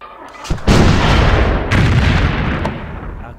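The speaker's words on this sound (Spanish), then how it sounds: "Vamos ahora a activar la artillería." Artillery fires in the video game Civilization III, WWII-era war setting: a loud close boom followed by a long rumbling roar, then a second blast rolls in and fades slowly.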